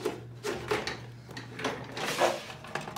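Drawers beneath a nail salon table slide open and shut, several soft scraping knocks close by in a quiet room.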